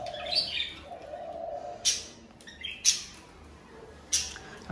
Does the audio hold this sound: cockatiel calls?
yes